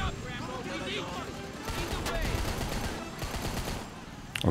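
Rapid gunfire rattles through a firefight in Rambo The Video Game, dense bursts of shots running nearly the whole time at moderate loudness, with a voice speaking over the shooting.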